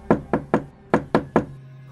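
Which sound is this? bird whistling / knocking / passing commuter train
knocking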